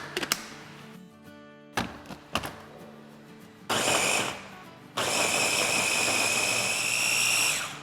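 Blender grinding a samosa sauce of spices, salt, turmeric and water: a few short pulses with gaps, then a loud, steady motor whir running close through to the end, with no talk.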